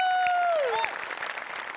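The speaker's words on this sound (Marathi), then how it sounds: "गणेश पाजींसाठी एकदा जोरदार टाळ्या." Studio audience at a Marathi comedy stage show applauds a performance, a steady wash of clapping that starts under a fading sustained musical tone and carries on alone.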